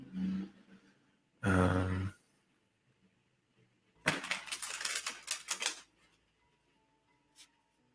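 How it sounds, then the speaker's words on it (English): A tarot deck, the Prisma deck, riffled by hand in a burst of crisp rapid card flutters lasting about two seconds, with a short voice and a softer shuffle earlier and a faint click afterward. "Let me shuffle a sec."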